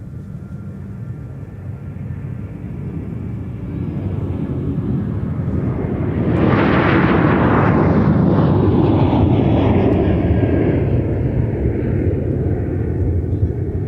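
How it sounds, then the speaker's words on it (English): A Sun Country airliner takes off at Minneapolis–St. Paul airport, its jet roar building from a low rumble into a loud, sustained blast that stays heavy and broad to the end. "Sun Country 211 Tampa taking off now."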